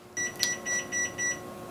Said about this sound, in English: why is everything beeping?